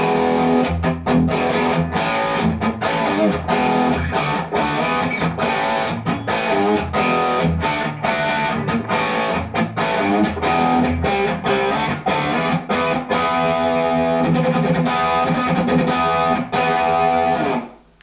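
Electric guitar played through a Marshall 1987x plexi amplifier with a Rivera Rockcrusher at a high studio setting, a loud, steady stream of distorted chords and picked notes lasting about eighteen seconds before cutting off abruptly.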